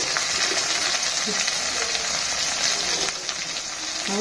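Tomato sizzles in a hot frying pan while avalakki (poha) is being cooked. The frying hiss is loud and continuous, with faint stirring and scraping noises underneath.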